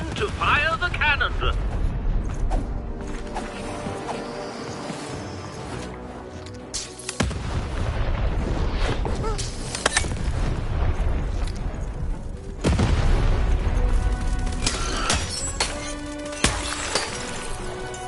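Cannon firing in the Lost in Random video game: a few big booming blasts with shattering, crashing debris, layered over dense game sound while a person talks.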